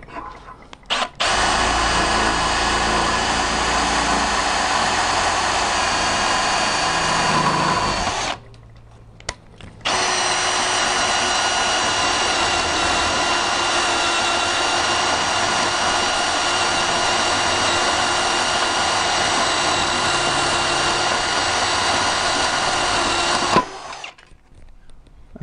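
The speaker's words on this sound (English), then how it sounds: "I'm going to drill the pilot drill a lot faster than the hole saw" A power drill whines loudly and steadily as a hole saw grinds through 4 mm thick mild steel, pausing briefly midway before cutting resumes for a long stretch.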